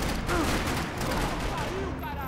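Rapid gunfire bursts from the video game Max Payne 3, loud and continuous throughout with dense shots, mixed with game sound effects.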